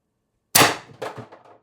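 A Pistelle X-68 HPA air pistol running at 700 PSI, fitted with a threaded MCS barrel and Reaper, fires a single sharp, close crack after silence, followed by a short metallic ringing tail.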